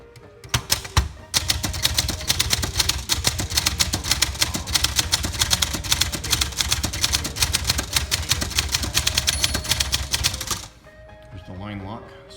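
A 1967 Olympia SF typewriter is typed on rapidly and up close, with about nine seconds of dense, even keystrike clatter, then softer mechanical clicks and shifting parts once the typing stops.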